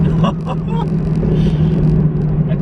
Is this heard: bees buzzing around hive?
no